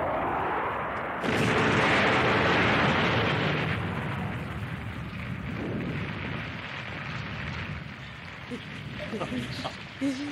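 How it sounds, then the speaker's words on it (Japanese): A heavy, roaring explosion erupts after a second and rumbles on for several seconds, then fades into crackling debris and lingering noise. "急げ、もうすぐ爆発するぞ。"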